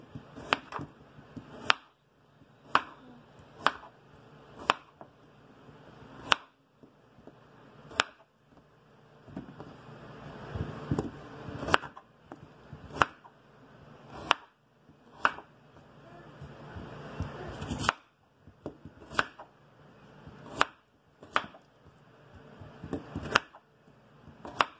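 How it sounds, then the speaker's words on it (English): A knife cuts red skin potatoes into pieces on a board, sharp crisp chops landing in irregular bursts, close and clear, with kitchen rustling and handling noises between the strokes. "And then we're going to cut the potatoes in pieces."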